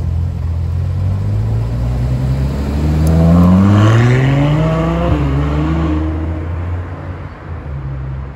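A Ferrari 812 supercar's V12 fires up and revs hard on a Paris street at night, a loud, close engine roar rising to a peak in mid-clip and then settling into a deep, rumbling idle.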